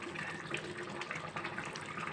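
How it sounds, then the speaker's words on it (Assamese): Water poured into a pot of cooking duck meat, a steady, soft splashing and trickling stream running continuously at low volume. "সেইকাৰণে মই অকণমান পানী দি ঢাকন মাৰি দিম।"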